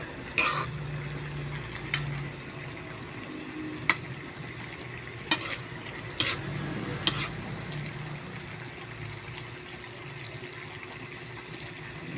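Rice being stirred in a pan while cooking, soft sizzling under a handful of sharp utensil scrapes and knocks on the pan, close and fairly quiet, with no talking.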